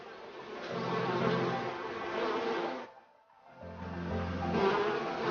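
A dense, steady buzzing of many honeybees swarms close by at their hives near a river, briefly dropping away before surging back just as loud.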